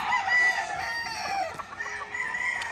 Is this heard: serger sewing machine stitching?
no